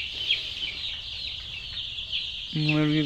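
A chicken clucks nearby over steady background noise, with a louder, harmonic cluck near the end.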